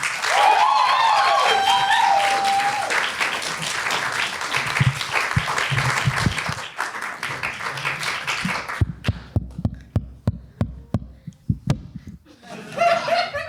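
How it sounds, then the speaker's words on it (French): Audience applause at a stage show, dense clapping and some laughter for several seconds, thinning into scattered separate claps before a voice starts at the end. "Je vous demande un tonnerre d'applaudissements pour poulet de feu."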